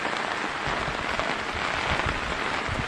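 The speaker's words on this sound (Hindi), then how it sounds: "बारिश रुकने का नाम नहीं ले रही।" Heavy, steady rain pours down during a flood in a village in Raisen district, Madhya Pradesh, a dense unbroken hiss with close splashing that stays loud for the whole stretch.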